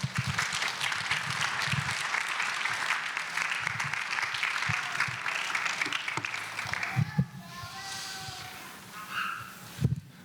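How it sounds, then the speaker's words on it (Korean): A church congregation applauds during a Sunday worship service as a missionary comes forward, with dense steady clapping for about seven seconds that thins into scattered claps and murmuring near the end. "우리 격려의 박수로 한번 할렐루야 하면서 같이 보시면 좋겠습니다"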